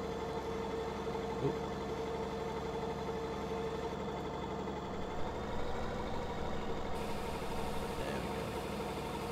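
Tractor engine idling in Farming Simulator 2017, a steady low droning hum that runs evenly throughout, with a brief spoken interjection over it.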